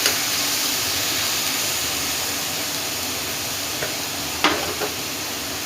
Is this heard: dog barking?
no